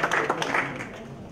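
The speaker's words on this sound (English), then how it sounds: "I would like to, again, a round of applause because he's been very active and did a great job" Brief applause from a conference audience after a talk: a short burst of clapping that quickly fades.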